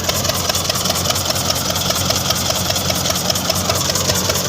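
A tractor engine runs steadily at night during groundnut harvesting work in a field. A close, continuous idling drone with a faint rhythmic throb holds at even loudness throughout, with no voices.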